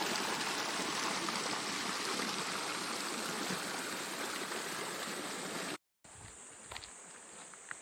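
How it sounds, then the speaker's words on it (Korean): A forest stream runs beside an arboretum trail, its steady close rushing water filling the air, with faint insect buzz and a brief dropout near the end. "개울 소리 한번 들어보실까요?"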